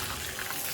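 Water, green with algae from a constantly running AC drain, is poured out of a bucket, making a steady splashing gush that is close and fairly quiet with no speech.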